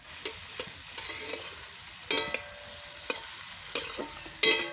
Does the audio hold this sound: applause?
no